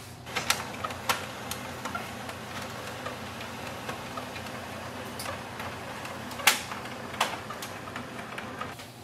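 An HP LaserJet Pro MFP 3101fdw printer scans a document, a steady low mechanical whir broken by irregular close ticks and a few sharper clicks over about nine seconds.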